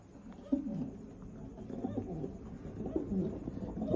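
Kaldom pigeons coo softly at close range, low burbling calls repeating over a faint background hum with no voices.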